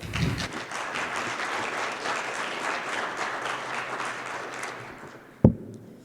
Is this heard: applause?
yes